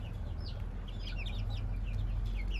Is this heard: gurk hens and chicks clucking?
yes